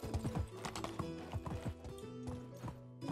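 A horse in the video game Medieval Dynasty clip-clops along with quick, close hoofbeats in an uneven trotting rhythm, a short whinny mixed in, and no talking.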